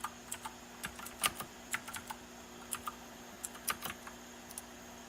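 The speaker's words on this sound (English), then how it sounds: "typing with one hand" Someone types one-handed on a computer keyboard during a live forex trading session: faint, irregular key clicks in small clusters with short pauses, alone in a quiet room.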